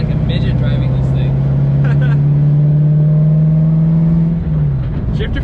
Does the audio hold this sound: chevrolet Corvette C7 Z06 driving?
yes